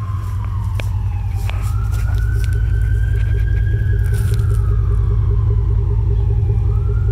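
A 2006 Chevrolet Impala SS's 5.3-litre V8 rumbles loudly and continuously, a deep, heavy engine tone with a rising and falling whine layered over it.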